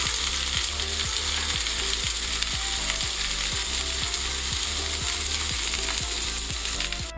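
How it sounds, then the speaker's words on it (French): Carrots sautéing gently in a pan after boiling, with a steady close sizzle and frying crackle throughout and no talking. "mes petites carottes que j'ai cuites tout à l'heure, je vais retirer l'eau et je vais venir aussi les faire sauter tranquillement"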